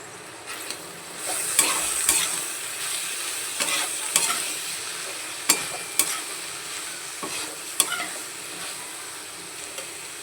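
Spice paste with tomato sauce frying in oil for a vegetarian fig and chickpea curry, a continuous close sizzle with repeated spatula scrapes and sharp knocks against the pan.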